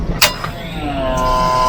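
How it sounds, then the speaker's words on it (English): An RV trailer's electric brakes engage after the emergency breakaway cable is pulled: a sharp click, then a rising electrical hum that holds steady, close and fairly loud, with no talking. "You can hear the brakes going off."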